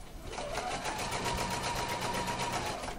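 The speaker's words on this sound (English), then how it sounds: "I'm going to sew all the way to the point." A sewing machine stitches a dart in lace fabric, its needle running in a fast, even, continuous whir throughout, close and loud with no talking.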